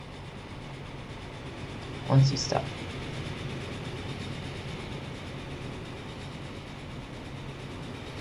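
A train in the Transport Fever 2 game rolls through a station with a steady low rumble and a brief louder swell early on, as someone speaks briefly over it.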